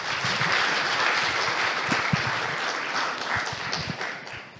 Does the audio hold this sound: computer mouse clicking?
no